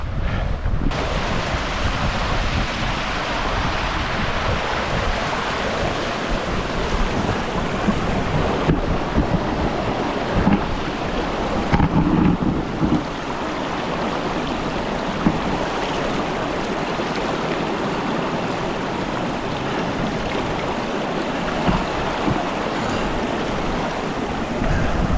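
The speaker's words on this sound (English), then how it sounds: "we're getting to a point where we can cross this lush looking waterfall stream system" Rushing water of a lush waterfall stream on a Ben Nevis ultra-marathon route, a steady broadband roar close by, continuous and loud for the whole stretch with no talk.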